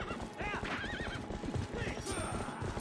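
Horse neighing and clip-clopping hooves in the video game Twilight Princess during a fight, the whinny rising clearly above steady galloping, busy game audio throughout with a voice talking over it.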